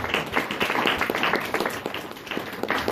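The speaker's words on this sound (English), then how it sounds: "Give yourselves a round of applause," A crowd at a live stage show claps in a round of applause, dense overlapping hand claps sustained steadily for the whole stretch at moderate level, with no voices on top.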